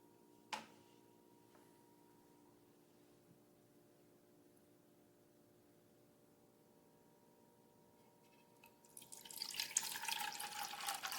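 Tap water starts running into a cup near the end, a steady hiss rising after a stretch of near silence broken by a faint early click, with no voices.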